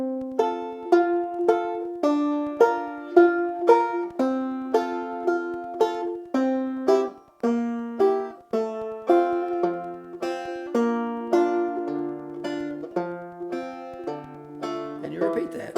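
Banjo backup accompaniment from a lesson on the tune Jaqueline's Dream, its second part played higher up the neck as a steady stream of plucked chord notes over about sixteen seconds, clear and close with no talking.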